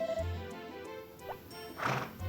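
A horse in the Harvest Moon video game answers a whistle, giving a short game-sound neigh and hoof clops near the end of a brief clip, with a faint tonal background tune and no speech.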